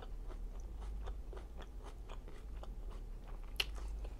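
Someone bites into chicken fajitas and chews close to the mic, a steady rhythm of soft wet chews with a crisp crunch near the end, quiet and with no talking.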